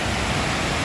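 The Ipanema river at Santana do Ipanema, Alagoas, swollen after days of rain, pours past in a dense, steady hiss with no pauses.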